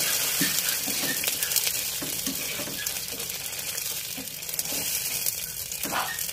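Two cans of sardines frying in oil with onion and garlic in a pan, giving a steady close sizzle with scattered pops and small clinks throughout.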